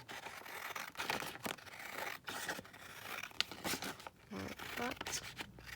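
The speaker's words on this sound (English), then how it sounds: "I'll just grab my scissors and we can just trim this down" Scissors trim a beeswax-coated napkin up close, with soft snips, rustles and scraping of the stiff waxed fabric in irregular bursts.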